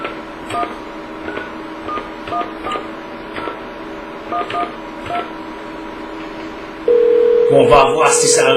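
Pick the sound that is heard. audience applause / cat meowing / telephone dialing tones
telephone dialing tones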